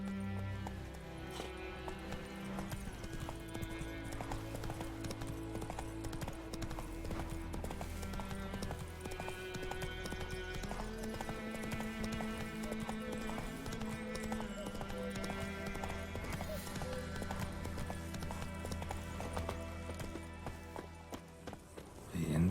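Galloping horse hooves from The Witcher 3 drum steadily under a dense bed of game music that lasts throughout, staying fairly faint and continuous.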